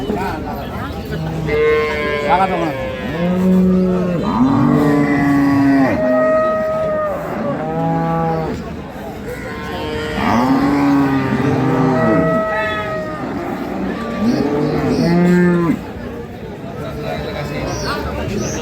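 Cattle moo repeatedly, loud and close, at a dairy cow market in Ambari, Dinajpur, with several overlapping calls over busy crowd chatter and people talking nearby.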